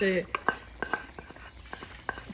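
A utensil scrapes and stirs flour frying in a pan with red pepper, giving soft irregular scraping strokes over a faint sizzle, close and quiet.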